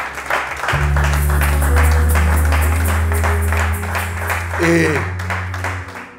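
A church congregation applauds during a worship service, a steady wash of clapping that runs for several seconds over sustained keyboard chords while a preacher's voice carries on above it.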